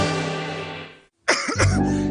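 A short, sharp cough in a Siladex flu medicine advert breaks in after a sustained musical tone cuts to brief silence, followed by a voice.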